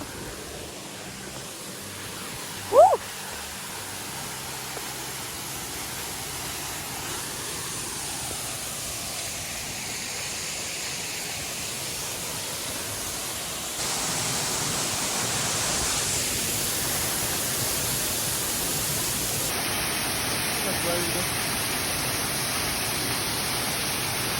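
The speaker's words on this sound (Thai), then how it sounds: "ตรงนี้ก็จะเป็นน้ำไหลลงไปนะคะทุกคน" Water flows down a forest waterfall as a constant broadband rush that steps up louder partway through, with a brief sharp knock near the start and no voices.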